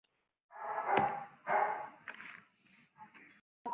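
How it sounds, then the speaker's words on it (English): Dogs bark in the background of a conference call, a few loud bursts close together followed by fainter, scattered yips and whimpers, with no one talking over them. "the background noise of the sounds of dogs barking"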